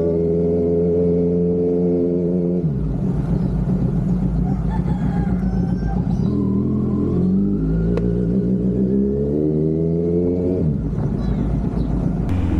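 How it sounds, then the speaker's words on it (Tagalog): A motorcycle engine drones steadily up close, its pitch dropping and rising as the rider shifts and accelerates, with wind noise throughout. "naka-motor tayo ngayong araw"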